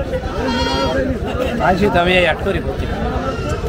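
Goats bleat at a busy cattle market at Mollar Hat, Udaypur, in several loud, wavering calls close by, over continuous crowd chatter and people talking.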